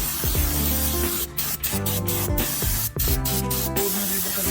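Paint sprayed onto a horse and elephant figure comes as a loud, continuous close hiss, broken by several short pauses between bursts, with the spray's rhythm pulsing throughout.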